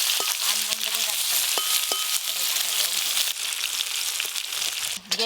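Topshe fish frying in oil in a pan makes a constant loud hiss and crackle, with occasional scraping and clinks of a utensil, and a brief stir of movement near the end.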